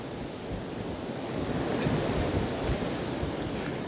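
Strong wind sweeps along a Toronto street near Koreatown and Christie Street, a steady, loud roaring rush buffeting the microphone with no voices.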